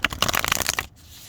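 Tarot cards being shuffled by hand in a burst of quick, crisp riffling flutters for under a second, then a near-silent pause with faint room tone.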